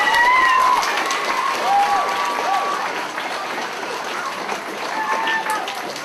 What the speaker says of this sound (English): One more round of applause for Ms. Davis, please